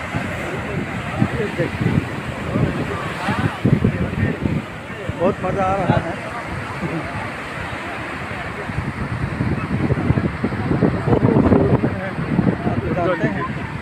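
Sea waves rolling in at Marina Beach in Chennai, with surf about five feet high, a steady wash of water and wind under someone talking throughout.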